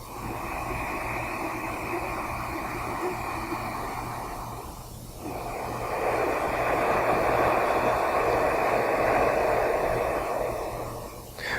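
Ujjayi yoga breathing, a constricted-throat oceanic Darth Vader-like breath, heard as one long soft hissing inhale and then a fuller exhale, close and steady, with no talking.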